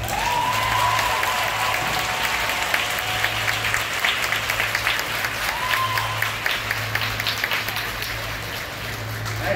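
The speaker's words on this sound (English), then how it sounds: "huge round of applause." Applause from a crowd at a college graduation ceremony, sustained clapping that carries on at a steady level for several seconds, with a faint voice underneath.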